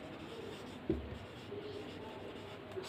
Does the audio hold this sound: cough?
no